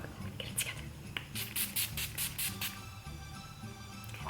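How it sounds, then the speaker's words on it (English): Makeup setting spray misted over the face in a series of short, close hissing spritzes that cluster in quick succession, then stop, leaving faint room noise. "I'm gonna spray this all over my face"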